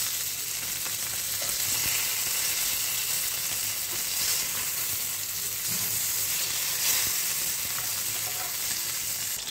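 Fish frying in oil gives a steady, dense sizzle that holds at an even level throughout, with faint crackles and small stirring knocks scattered across it and no voices.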